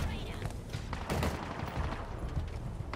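Rifle fire from a jackal sniper in the video game Halo Infinite, sounding as a dense run of sharp gunfire bursts with loud combat noise throughout.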